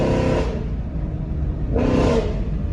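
A Chrysler 300C with a Corsa exhaust revs twice, each deep, loud roar rising and falling, with a low rumbling idle between and after the bursts, heard close up.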